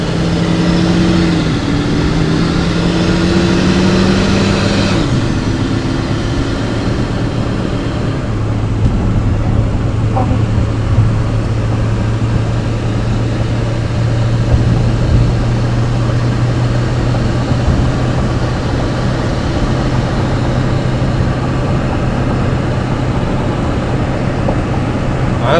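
Diesel truck fitted with a Magnaflow exhaust cruising on a highway: a steady low engine and exhaust drone with constant road and wind noise, continuous throughout, a brief shift in pitch early on before settling into an even hum.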